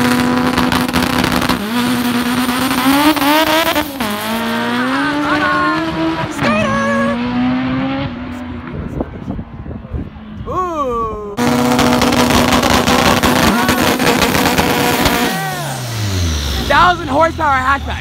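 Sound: 1,200 horsepower turbo Honda Civic hatchback drag racing

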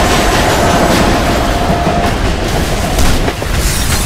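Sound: train rolling in a video game

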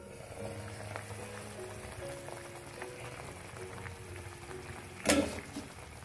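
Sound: Pabda fish curry simmering in covered pan

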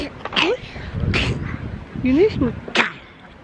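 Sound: child sneezing

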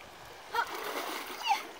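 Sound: water splashing as someone climbs out after snorkeling

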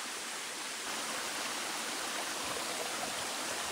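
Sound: mountain stream flowing near a waterfall

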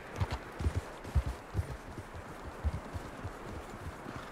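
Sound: horse hooves clip-clop in Red Dead Redemption 2 video game

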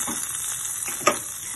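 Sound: mustard seeds and urad dal sizzling while tempering in oil

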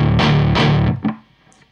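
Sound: distorted electric guitar riff

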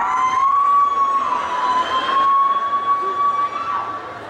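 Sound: comedian imitating an ambulance siren

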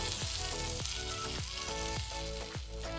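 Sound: tadka tempering sizzling as it is added to dal

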